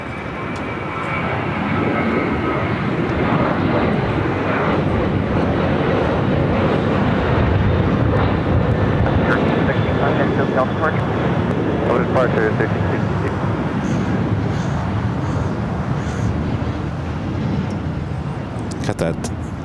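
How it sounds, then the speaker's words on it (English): An airliner taking off from runway 25 right at LAX, a loud sustained engine roar that holds strong for the whole stretch, heard at a distance with a voice talking over it. "Runway 25 right, take off."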